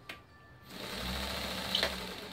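A 1x30 belt sander fitted with a scissor-sharpening swing arm starts up and runs with a steady, fairly close motor hum and belt whir, with a faint click from the back of the machine.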